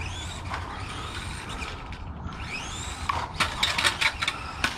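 An FMS Smasher V2 RC truck with a hard body scrapes and creaks as it drives over patio stone, making a steady mechanical grinding that gets louder with sharp scratchy bursts toward the end.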